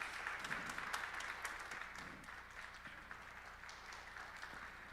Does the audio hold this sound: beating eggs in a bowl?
no